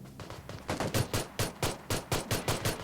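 A pistol in the mobile battle game PUBG New State fires about a dozen rapid, punchy shots in an uneven rhythm, loud and close, with no voices over them.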